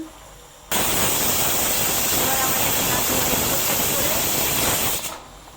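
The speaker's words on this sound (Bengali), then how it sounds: "সিটি উঠছে দেখুন" Steam blasts loudly and continuously from a pressure cooker whistle on the stove while cauliflower for a rohu fish curry cooks inside, a steady broadband hiss that cuts in abruptly and stops near the end.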